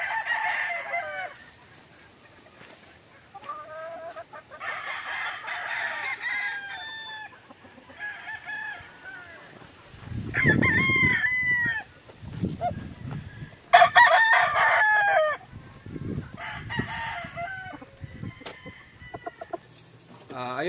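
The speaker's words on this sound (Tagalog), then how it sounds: "ito po yung mga bull hen na super sweater." Super Sweater gamefowl crow and cluck repeatedly at close range, with several loud overlapping cock-a-doodle-doo calls and clucking bursts spread across twenty seconds, and a low voice briefly heard beneath them.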